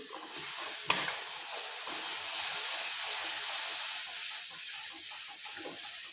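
Water from a rinsed mixer jar poured into a pan of frying ground masala: a sharp splash at the start, then a steady broad hiss and sizzle that carries on evenly with no voices.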